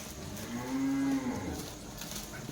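A single drawn-out, low bleat from a goat on a farm selling breeding goats, loud and close, lasting about a second against faint background noise.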